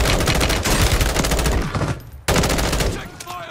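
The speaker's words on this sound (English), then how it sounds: "taking fire." Incoming gunfire in Warzone, heard as loud, dense automatic fire that cuts out briefly and then resumes just as heavily.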